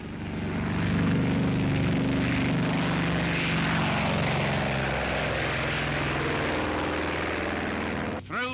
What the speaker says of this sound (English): The Grumman Hellcat.